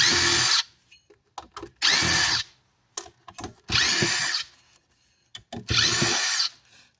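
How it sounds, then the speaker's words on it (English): A power drill unscrews the transformer from a Peavey amp, firing in four loud whirring bursts of roughly half a second each, close up, with small clicks and handling knocks in the pauses between them. "Unscrew the transformer."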